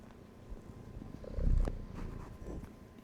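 A sleepy house cat purrs close by with a soft, low rumble that swells for a moment in the middle, heard alone without talking.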